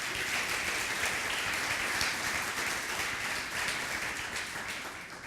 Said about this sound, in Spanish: Démosle un aplauso a Él por eso.